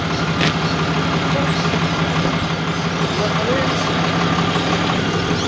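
Idling truck engine as the truck drives onto a weighbridge for a weight check, a steady low diesel rumble throughout, close and loud, with someone talking over it.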